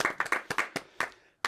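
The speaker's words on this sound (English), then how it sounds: "Round of applause." A short, sparse burst of hand clapping from a podcast studio audience, a handful of sharp claps in an uneven rhythm, fairly quiet and close.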